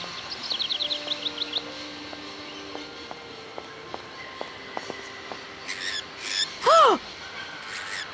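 Birds in the adventure game Syberia chirp in quick short bursts, with a squealing call near the end, set against soft tones and clicks from the game.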